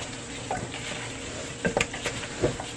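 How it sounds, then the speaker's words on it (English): A gloved hand mixes and tosses seasoned ingredients for a crockpot meal, giving a close, wet squelching and rustling with a steady hiss underneath and several soft, irregular squishy bumps. "Literally, you're just going to mix everything up"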